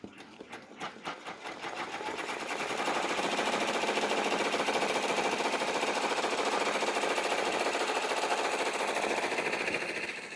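Embroidery machine running a placement stitch on stabilizer, a rapid, steady mechanical needle chatter that starts with a few irregular stitches, then hums loud and continuous at close range.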